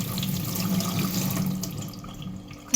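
Tap water running into a kitchen sink as dishes are washed, a steady close splashing stream with small clinks, easing slightly toward the end before a sudden knock.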